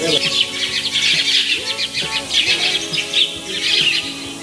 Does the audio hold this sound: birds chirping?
yes